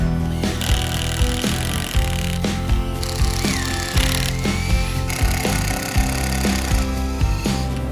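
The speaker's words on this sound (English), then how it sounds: "everyone drilled the holes in the logs at about 10 to 15 centimeter pitch between each hole" A power drill bores holes into wooden logs for shiitake mushroom spawn plugs, loud and close, its motor whining continuously with surging bites into the wood throughout.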